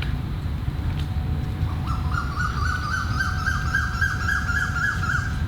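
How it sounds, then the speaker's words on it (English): A bird calls in a rapid, repeated trilling series over a steady low rumble of background noise, moderately near, at Gardens by the Bay in Singapore. "I guess that sound wasn't a speaker, but an actual bird"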